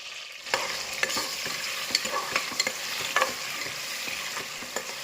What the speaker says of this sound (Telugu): ఆ తర్వాత ఆనియన్స్, పచ్చిమిర్చి కూడా వేసుకొని ఫ్రై చేసుకోవాలి.